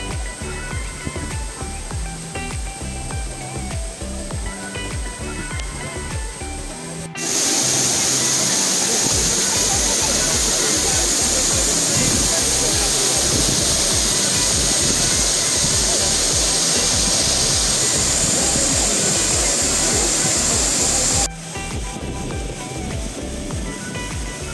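Efrata waterfall on Samosir Island at Lake Toba roars as a steady, dense wash of falling water, loud and continuous, with background music running throughout.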